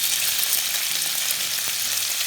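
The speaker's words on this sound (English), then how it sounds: "we're gonna put the saltfish in" Saltfish slices sizzle loudly in three tablespoons of hot oil, a dense, steady frying hiss close up with no voices.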